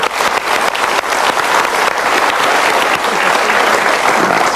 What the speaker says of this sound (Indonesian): Sekali lagi kita berikan tepuk tangan untuk curhatnya